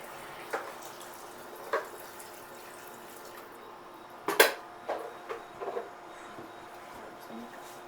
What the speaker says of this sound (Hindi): इसमें हम ऐड कर लेंगे पानी।